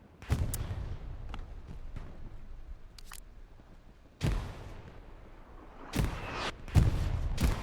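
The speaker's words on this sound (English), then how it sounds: "Artillery coming down in the middle of rail crossing." An artillery barrage landing in the video game Hell Let Loose, with sharp, loud blasts and distant booms hitting irregularly over a low rumbling background, several impacts spread across the stretch.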